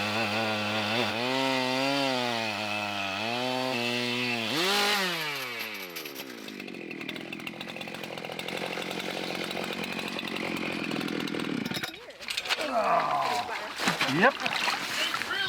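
A chainsaw with a fairly new chain cuts through thick ice, its engine revving and changing pitch, then settling into a rough grinding cut with splashing and slushy crunching near the end; a voice talks over parts of it.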